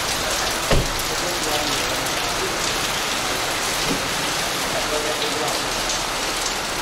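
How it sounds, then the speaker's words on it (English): Steady rain falls outside a parked black Peugeot 406, a dense, even hiss of drops on surfaces with a few louder nearby drips, while someone speaks faintly underneath. "It's actually raining right now"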